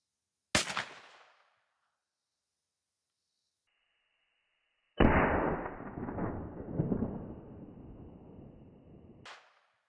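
.410 shotgun firing buckshot into a ballistic gel block at ten feet, one sharp loud report that decays quickly, followed after a pause by a long rumbling burst of noise with a faint steady tone.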